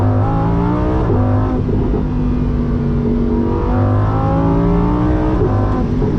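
A Lamborghini Huracan Sterrato with a tire on the roof accelerates hard, its loud engine droning and rising in pitch through gear changes, heard close from the cabin over constant road and wind roar.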